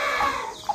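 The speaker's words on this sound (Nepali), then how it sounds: "अनि हाम्रो चल्लाहरू हेर्नु है" Young chicks, some slightly larger than others, chirp together at close range in a continuous run of high, thin peeps with one sharper call near the end; no one speaks over them.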